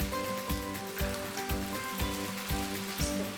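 Chicken and vegetable egg rolls fry in hot oil, giving a dense continuous bubbling sizzle with a soft rhythmic thump repeating about every half second beneath it.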